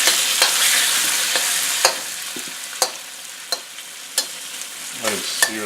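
Beef sears in a hot wok with a steady hiss of sizzling, broken by sharp scraping clicks as the meat is pushed up the sides and spread around, close and fairly loud.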